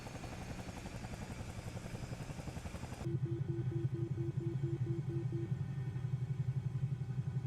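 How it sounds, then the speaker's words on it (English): A Bell 222B helicopter in Microsoft Flight Simulator runs with both engines started and the rotor spinning. It makes a steady, loud turbine drone with a rhythmic rotor pulse that grows fuller partway through. "After both engines are started and the rotor has started to spin"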